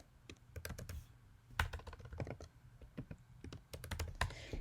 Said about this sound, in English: I'm going to type in what their absorbance values are